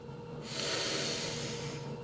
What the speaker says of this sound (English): start at the base and give it a big sniff